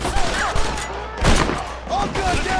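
Handgun fire from a high-power pistol in the Red Dead Redemption video game rings out in several sharp shots amid a busy gunfight, with a voice heard over it.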